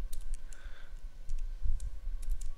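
Keys clicking on a computer keyboard during a Windows file-path entry, a few quick taps spread across the moment, fairly close and light, with no talking.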